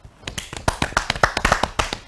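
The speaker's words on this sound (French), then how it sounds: "Applaudissez." Quick round of hand claps and taps from a small classroom group during a French quiz session, a dense burst of sharp claps lasting about two seconds, close and fairly loud.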